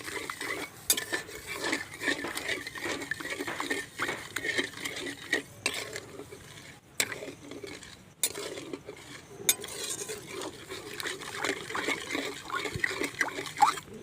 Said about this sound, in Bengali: ভালো করে নাড়তে থাকবো যাতে চিনিটা গলে যায়।